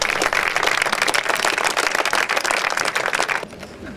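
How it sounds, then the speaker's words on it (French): Sustained audience applause at a regional youth sports awards ceremony in Alsace, dense and steady clapping for over three seconds before thinning out near the end. "Donc on peut l'applaudir aussi."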